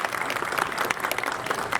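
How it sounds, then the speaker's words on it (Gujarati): Audience applause at a cultural folk-arts gathering, dense and sustained clapping from a crowd that stays loud and even throughout, with no speech over it. "તાળીઓ થોડી વધારે હશે તો ગમશે."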